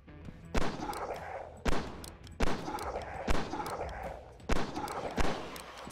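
Revolver gunfire from the West of Red video game: six sharp shots spaced roughly a second apart, each a crisp crack over a steady bed of game ambience and action noise.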